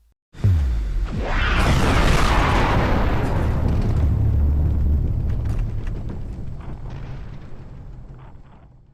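A planet exploding in the video game Titanfall 2: a loud, deep roaring blast that erupts suddenly and sustains a rumbling, crackling wash of debris for several seconds before slowly fading, with no voices.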